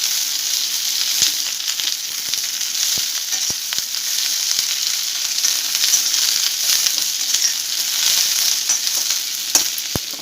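Chopped onions fry in a pan for chilli mushroom, a steady, close hiss and sizzle with occasional crackles and pops lasting throughout.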